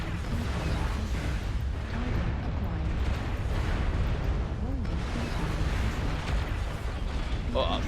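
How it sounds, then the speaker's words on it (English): Missiles launching and exploding in a Gundam video game, a constant roaring barrage of booms and blasts with no pauses, loud and dense throughout, with a voice talking over it. "they're launching missiles after missile at me"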